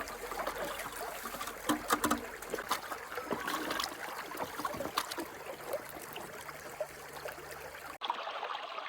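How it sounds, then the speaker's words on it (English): Water rinsing a gold sluice in a creek, a continuous close trickle and splash of flowing water with small knocks, cut off abruptly near the end. "Always rinse the sluice."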